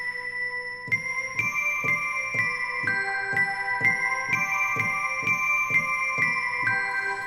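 Bell tones from a Yamaha Montage keyboard patch ring out alone as a regular series of struck notes, about two per second. Each hit starts clearly and leaves long shimmering overtones ringing under the next.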